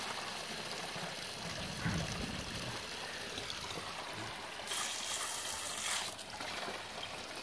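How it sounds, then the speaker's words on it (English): A garden hose turned fully open pours water into a long channel drain, a steady, low-level rushing trickle that swells briefly louder near the end. "I have the hose turned up all the way."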